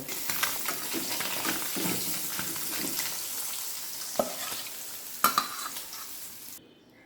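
Pieces of paisa fish frying in a pan, a steady close hiss and crackle with occasional stirring scrapes and a couple of sharp clinks, cutting off abruptly near the end.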